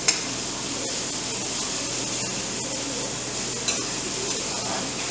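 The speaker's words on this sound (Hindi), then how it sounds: "दो से तीन मिनट के लिए इसको सॉटे कर लीजिए" Vegetables sautéing in a hot pan for a vegetarian bread pizza topping, giving a steady close sizzle with occasional stirring clicks throughout.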